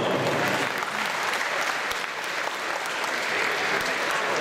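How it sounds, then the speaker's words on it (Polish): Sustained crowd applause at a 2014 Fight Night amateur fighting event in Piaseczno, a dense, steady wash of clapping that holds at an even level throughout without a break. "Brawa, brawa, proszę Państwa, dla Pauliny."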